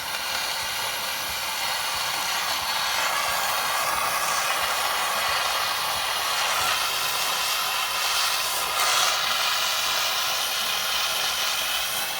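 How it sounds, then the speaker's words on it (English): A torch flame plays on a seized front brake rotor of a 2006 Chevrolet HHR, giving a steady, loud roaring hiss that holds evenly throughout with no pauses. "Now let's put some fire on the rotor."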